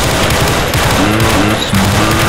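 Rapid rifle fire in Left 4 Dead 2, loud bursts of closely spaced shots repeating throughout without a break.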